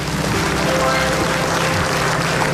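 Studio audience applause for a comedian on the Indonesian comedy talk show Indonesia Lawak Klub, a dense steady wash of clapping filling the whole moment at even loudness.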